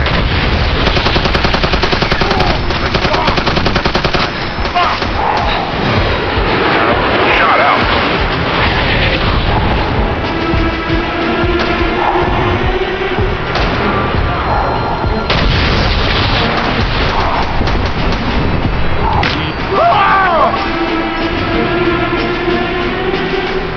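Grenade launcher blasts and gunfire from the America's Army video game, with dense, continuous loud shooting and booming explosions across the whole stretch, and a voice briefly talking under the combat.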